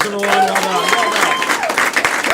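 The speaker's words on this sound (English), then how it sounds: "Give him another round of applause" A live show audience breaks into applause for a participant, a burst of crowd clapping and cheering that runs under someone talking briefly over it.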